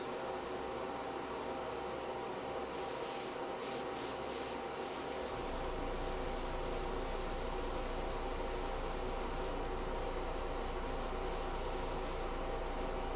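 An airbrush sprays paint onto tabletop D&D terrain. Steady, faint hissing air is cut by short bursts of spray, then settles into a continuous hiss with a few more brief pulses near the end.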